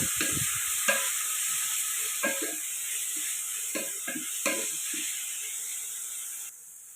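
Coarsely ground mint and coriander sautéed in a pan while cooking mutton biryani give a steady, close sizzling hiss, broken by several short scraping stirs before the sound cuts off near the end.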